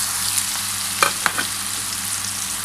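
Green chillies and mango for aam tel pickle frying in oil in a pan: a continuous close sizzle with a couple of brief stirring scrapes and no voices.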